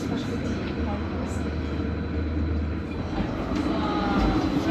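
A tram ride into a city centre, heard from inside the car: a steady low rumble and hum of the running tram, with faint voices murmuring in the background.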